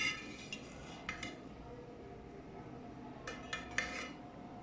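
A spoon scraping and clinking against a pot while chutney biryani with minced meat (qeema) is dished out, a few distinct metallic clinks over a low steady background.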